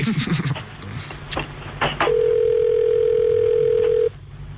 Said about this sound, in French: J'entends sonner la sonnerie du Québec.